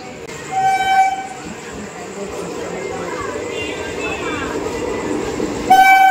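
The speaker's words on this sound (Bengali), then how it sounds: "ট্রেন আসছে।" A train pulls in with two loud horn blasts, one near the start and one at the end, over a steady rumble and rattle of wagons. People talk throughout.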